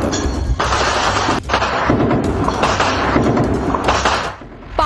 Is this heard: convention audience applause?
no